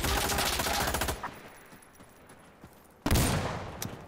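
Rapid bursts of VHS-2 rifle fire in the shooter game Insurgency Sandstorm, a dense loud volley for about a second, then quiet ambience before another sharp burst and a few scattered shots near the end.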